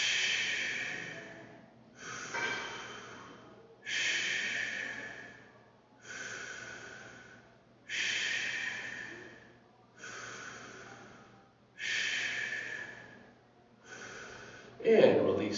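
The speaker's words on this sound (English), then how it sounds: "let's do some deep breathing" Deep breathing in a fitness class: seven slow, regular breaths roughly two seconds apart, each an audible airy rush of air, close and steady, ending with a louder exhale.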